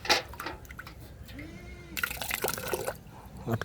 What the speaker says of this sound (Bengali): এই পানিটা সম্পূর্ণ ভর্তি হয়ে যাবে না